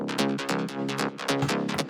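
Layered synthesizer trance bass in a hardwave track, one of three stacked basses: rapid repeating plucky stabs with bright harmonic tops and a steady driving rhythm, loud and alone.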